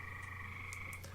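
Frogs croak outdoors, a faint, continuous low droning chorus with a steady hum and a few soft higher chirps.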